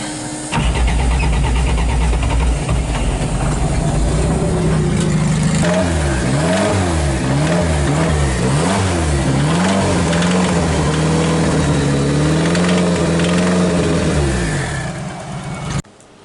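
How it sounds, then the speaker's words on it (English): The front engine of a twin-engine Toyota Starlet cranks and fires, then idles loudly close by and revs up and down several times before cutting off, with no talking over it. "I'm just going to start up this front engine now just so you can have a listen"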